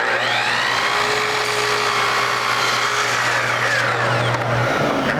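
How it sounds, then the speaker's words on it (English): A miter saw cuts wooden molding at a 30-degree angle for an inside corner: a loud, steady motor whine holds for several seconds, then winds down and stops near the end. "So this saw, now the saw has to swing to 30 degrees in the same direction"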